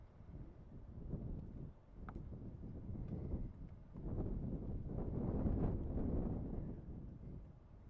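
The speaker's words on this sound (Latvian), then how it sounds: "Kā vējš dzenā ūdeni." Strong wind drives the water of a small backyard pond, with a steady, close, buffeting roar that rises and swells in gusts throughout.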